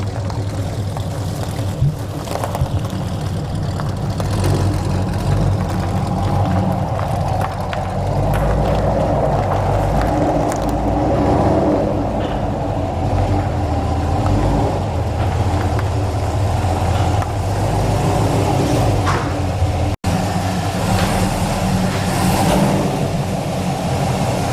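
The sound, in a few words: Chevrolet SS Camaro with cold air intake running on dyno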